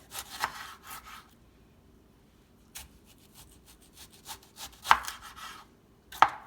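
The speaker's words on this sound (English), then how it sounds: "It's kind of hard trying to slice a tomato, and this is a perfectly sharpened knife" A sharp knife slices through green tomatoes on a board, short bursts of cutting and rubbing separated by quiet pauses, with a couple of crisp taps as the blade meets the surface.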